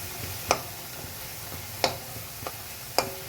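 Drumstick flowers cooked with poppy seed dry out in a pan over the heat, a soft steady sizzle broken by three sharp spatula scrapes and taps at even intervals, close by and with no voices.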